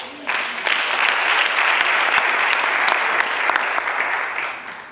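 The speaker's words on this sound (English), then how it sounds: "A big round of applause" An audience at a university farewell ceremony claps for Professor Mutana, a steady, full round of applause that rises quickly, holds evenly and fades near the end.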